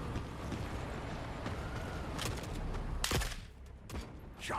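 Rifle gunfire in the video game The Forever Winter, a handful of sharp shots cracking over a dense, rumbling battlefield background, with the clearest bursts toward the end, fairly close.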